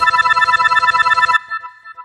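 A phone ringtone trilling in loud, rapid electronic pulses for over a second, then stopping and leaving a fading echo of the tone, no voices.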